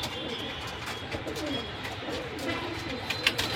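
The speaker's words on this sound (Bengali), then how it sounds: "এখন এক পেয়ার কবুতর নিয়ে আসলাম, সিলভার কবুতর, মাদিরা পাঙ্খি দিয়ে করা।" A pair of large silver pigeons coo in a steady, overlapping murmur with no pauses, close by and moderately loud, with faint higher chirps flickering over the low rolling calls.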